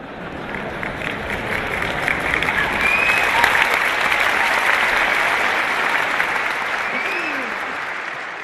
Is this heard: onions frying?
no